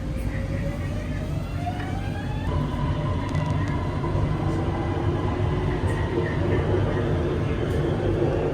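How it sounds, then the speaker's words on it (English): Inside a train in Bangkok, a steady loud rumble of wheels and motor with rising whine tones as it accelerates, continuous throughout. "I'm heading up north of Bangkok to Chatuchak, so I'll hop on a train instead"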